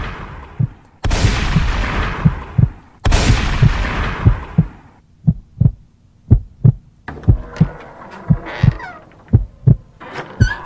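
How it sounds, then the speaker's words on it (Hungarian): Two loud shotgun blasts go off close up in a Freddy horror video game, followed by a run of heavy rhythmic thuds. "Lelőttem egy shotgunnal Freddy-t!"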